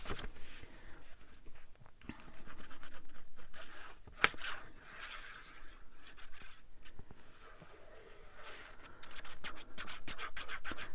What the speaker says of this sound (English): my glue's making a noise, wasn't it?